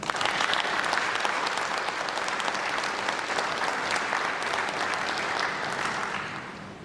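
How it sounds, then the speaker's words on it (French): A large audience at an opening ceremony of an economic and social council session gives sustained, dense applause that holds steady for several seconds before tapering off at the end, with no voices on top. "place et lieu du président Ahmed Reda Chami, que je vous prie d'accueillir très affectueusement par vos chaleureux applaudissements."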